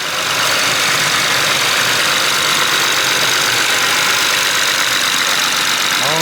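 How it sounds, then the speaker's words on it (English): BMW E60 535xi engine idling steadily up close, a loud, even mechanical hum with constant ticking texture and no change in revs throughout. "It's running nice and smooth."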